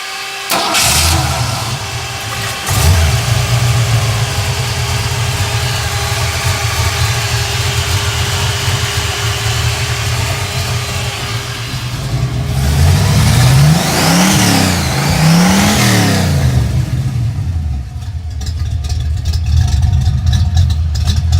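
A carbureted V8 in a 1980 Ford Mustang cranks and fires, settles into a steady, loud idle, then revs up sharply several times before dropping back to idle.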